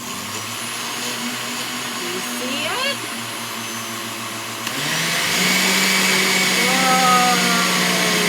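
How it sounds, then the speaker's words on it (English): A blender motor runs and mixes with a loud, steady whir that jumps to a higher, stronger pitch partway through. A person speaks briefly over the motor. "Once it stops rising, we'll stop the blender."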